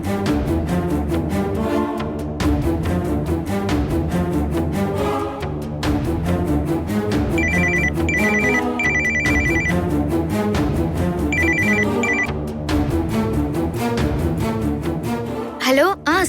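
Telephone ringback tone on an outgoing call, heard over music in a Tamil TV serial scene, with repeated short ring bursts in pairs against the background score.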